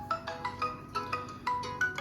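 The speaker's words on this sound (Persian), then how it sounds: "ببخشید تلفنم زنگ خورد" A mobile phone rings indoors in a home kitchen, repeating a bright electronic melodic tone in quick regular pulses, fairly quiet and heard alone.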